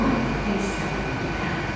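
A freight train rolls through platform 1 at a station, a steady low rumble and hum of wagons passing at moderate distance.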